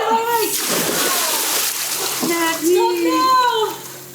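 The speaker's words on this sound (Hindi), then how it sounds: "मृदुल पानी में कूदा कि नहीं? हाँ कूदा ना" Someone jumps into an outdoor swimming pool, giving a loud, close splash and churning water, followed by people chatting and calling out over lingering sloshing.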